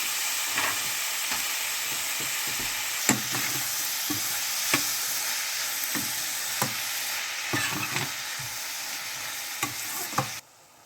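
Chopped tomatoes and onion frying in a pan for rajma curry, a continuous sizzle with scattered sharp clinks of a spoon stirring, close and steady.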